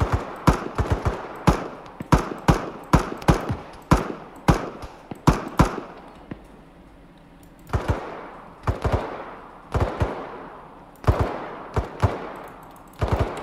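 Arma 3 infantry firefight: a rapid series of sharp gunfire and explosion-like bangs, clustered in bursts with short pauses, loud and close, with no talk over it.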